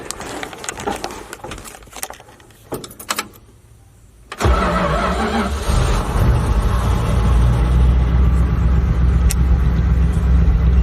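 A 1972 Dodge engine that sat in a junkyard, now with a new clutch, starts up and settles into a steady, loud, close rumbling idle after a few seconds of scattered clicks and clunks.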